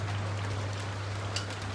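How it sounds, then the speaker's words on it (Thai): Steady rain falling in rural Laos, a constant moderate patter and hiss with a low background hum and no voices. "ฝนตก"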